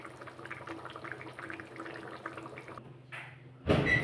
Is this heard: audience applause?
no